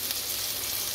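Minced meat sizzles steadily in a hot pan on a Vietnamese kitchen stove as it is stir-fried, a dense continuous crackle with no pauses and no voices.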